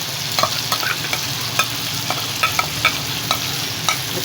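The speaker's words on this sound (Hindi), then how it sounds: "अब जो ब्लेंड किया था मसाला वो शामिल कर देते हैं," Blended masala sizzles as it fries for a chicken curry, with a steady hiss and regular clinks and scrapes of a spoon stirring the pan.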